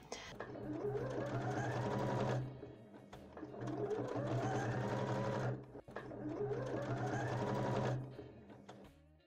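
A sewing machine with a twin needle stitches an elastic knit hat in three loud bursts of rapid, even stitching, each a couple of seconds long and separated by short pauses.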